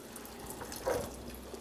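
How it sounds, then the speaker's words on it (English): Water from a tap runs into a pot of beans being set to cook in an Italian home kitchen, a short faint splash of pouring rising briefly over a quiet background. "I put the water, they have to cover the beans"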